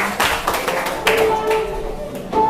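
Students in a classroom clap their hands together in a brief, close burst of sharp claps, with a voice speaking over it.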